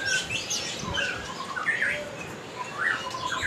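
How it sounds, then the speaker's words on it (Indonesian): White-rumped shamas chirp and whistle in short, shrill phrases, moderately distant, with no talking, at a bird market kiosk. "Di sini banyak menjual murai-murai tentang murai batu."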